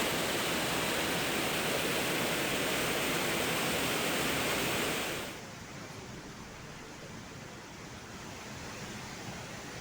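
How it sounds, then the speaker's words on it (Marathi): Dhopeshwar waterfall running at full capacity during heavy rain, a dense, loud, continuous roar of falling water that drops to a lower, steady rush partway through. "धोपेश्वर धबधबा पूर्ण क्षमतेने प्रवाहित झाल्यामुळे"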